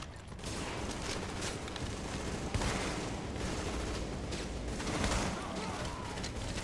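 Sustained, dense gunfire from The Division fills the scene with rapid overlapping shots, close and loud, with a few heavier impacts standing out near the middle.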